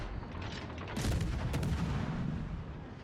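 Warship guns firing in World of Warships Legends, a sustained booming roar of naval gunfire with sharp crackling blasts layered over a heavy rumble, loud and close.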